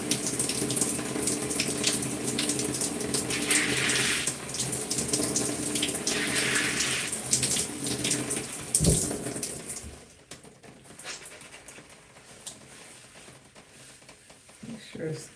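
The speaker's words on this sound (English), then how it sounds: "we're going to add some water" A tap runs in a steady splashing rush to soak a section of gel-coated hair during a wash-and-go, then drops to a quieter trickle and drips partway through.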